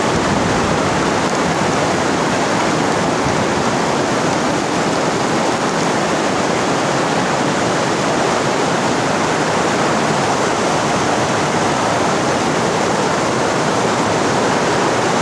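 A powerful torrent of water roars at close range, a dense unbroken wash of noise holding steady and loud with no voices or pauses.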